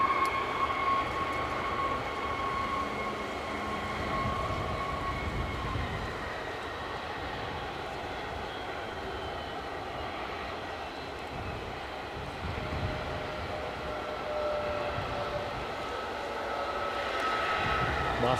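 A JetBlue airliner moving on the ground at Edinburgh airport gives a steady, moderately loud engine rumble with a faint whine, holding level throughout at middle distance and swelling slightly near the end, with no talk.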